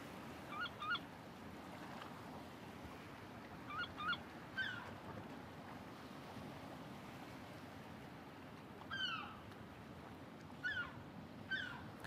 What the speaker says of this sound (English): Here in Michigan, we call seagulls rats with wings.